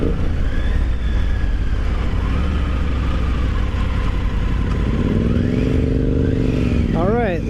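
A Triumph Tiger 900 Rally Pro motorcycle engine accelerating hard, a loud steady drone rising in pitch with wind rush, then a sharp rev climbing near the end, heard from the rider's position.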